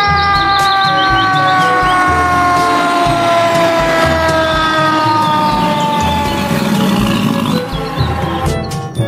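Toy fire truck siren wailing loudly and continuously in a steady electronic up-and-down pattern, close by, with no talk over it.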